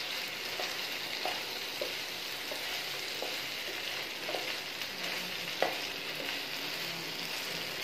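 Malai boti pieces sizzling steadily in hot oil as they fry toward golden, with a continuous crackling hiss and occasional stirring clinks and scrapes close by.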